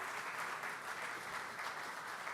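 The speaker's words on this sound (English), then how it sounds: "can we give Nathan a round of applause?" Steady audience applause at a landscape architecture awards ceremony, a dense, continuous clatter of many hands clapping for an award recipient, moderately distant and even in level throughout with no talk.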